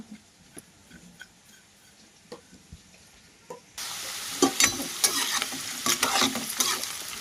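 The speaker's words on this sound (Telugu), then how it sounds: "మన కాకరకాయలు కూడా బాగా ఫ్రై అవుతూ ఉండేవి కాకరకాయలు అయితే బాగా ఫ్రై అయినాయండి" Bitter gourd frying in a pan, a faint sizzle with occasional stirring taps that suddenly grows into a louder, denser crackling sizzle with spatula scrapes midway, close up with no talking.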